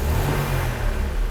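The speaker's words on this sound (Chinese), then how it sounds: "我们来做个加油。 引擎相当顺畅。" A Mercedes W123 230E with a freshly repaired fuel distributor revs up briefly, giving a close, smooth engine roar with a strong low drone.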